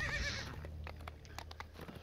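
Rhythmic hoof clops from a ridden horse in Thrall of the Necromancer, with a brief whinny at the start, moderately faint beneath game ambience.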